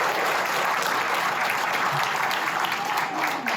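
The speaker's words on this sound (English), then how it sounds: "I think these guys deserve a hand clap" Applause for a school sports team at a signing day event, a dense, steady burst of many hands clapping throughout, fairly close, with faint voices beneath.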